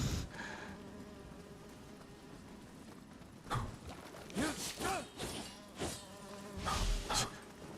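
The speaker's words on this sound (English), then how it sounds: "Even the bees have game in Nioh." Bees in the Nioh 3 game give short, fairly close buzzing bursts that swell and fade in a loose series, over a quiet ambient background.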